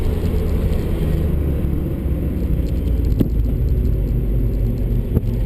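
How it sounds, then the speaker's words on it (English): Car on a time trial track, engine note rising as the driver gets back on the throttle, a steady loud road and engine rumble with a couple of sharp knocks, no talk. "now I'm getting back on the gas"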